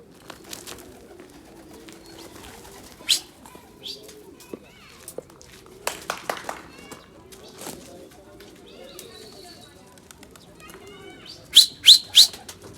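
Tumbler pigeons are released in Bursa and flutter in short, sharp bursts of flapping wings. Soft cooing and rustling sound close by between the bursts, and a rapid triple flap comes near the end.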